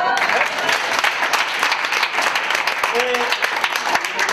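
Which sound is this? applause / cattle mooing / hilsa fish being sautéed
applause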